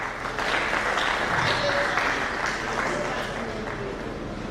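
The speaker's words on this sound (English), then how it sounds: "Make we clap for Honorable Dr. Uyi Oduwa Malaka" Audience applause at an Edo State government stakeholders' engagement, honouring Honorable Dr. Uyi Oduwa Malaka; steady, dense clapping fills the room at an even level, with faint voices mixed in.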